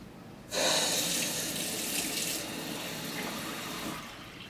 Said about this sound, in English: just kind of fill it with water, swish it around so it rinses fairly well